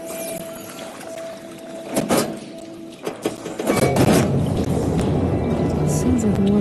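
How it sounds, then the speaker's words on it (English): Water surging through machinery after a valve switch in Horizon Forbidden West: metallic clunks and thuds, then a loud rushing, gurgling flow that builds and continues steadily, with a voice speaking over it. "Sounds like the water's switched."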